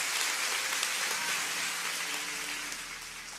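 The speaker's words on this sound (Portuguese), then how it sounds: "Pode aplaudir." A church congregation applauds in a dense, hissing wash of many hands, steady and moderately loud before easing slightly toward the end.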